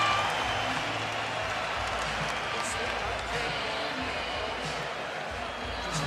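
A boxing arena crowd cheers and applauds during the Pacquiao vs Horn fight, a dense continuous roar heard from within the audience.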